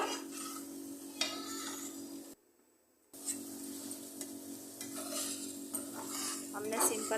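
Potatoes are lightly fried with three to four spoonfuls of ketchup for a tangy potato dish, with soft sizzling under repeated spoon stirring and scraping against the pan, broken by a brief silent gap.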